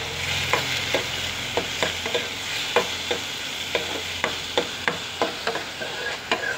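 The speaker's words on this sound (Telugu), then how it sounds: "ఇప్పుడు ఆనియన్స్ వేసుకుంటానండి ముక్కలో." Onions frying in a pan for mutton curry: a steady sizzle with repeated sharp scrapes and taps of a spoon stirring against the pan, close and clear, with no talk.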